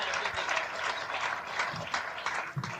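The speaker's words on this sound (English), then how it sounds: "Big round of applause." A comedy club audience applauds, a moderate wash of clapping with uneven swells over a few seconds.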